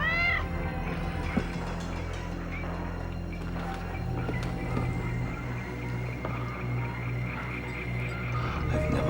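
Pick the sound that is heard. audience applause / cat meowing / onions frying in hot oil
cat meowing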